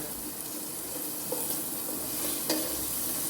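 Chicken curry base sautéing in a pan, a steady close sizzle with occasional scrapes of stirring.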